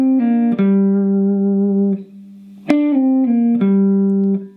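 Electric guitar pentatonic lick played slowly, with a sustained note, a slide and a pull-off, then a few more picked notes ringing out close and clear, alone with no voice.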